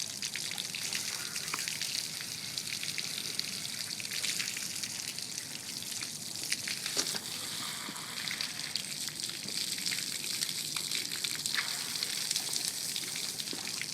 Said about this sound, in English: Make sure you flush these oil galleys out